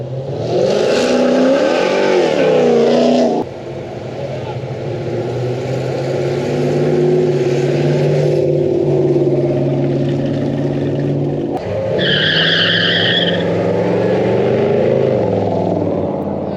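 A Mopar car revving hard during a burnout at Merrit's Picnic car show, loud engine roar rising and sustained with tonal whine, a brief dip then continued revving outdoors.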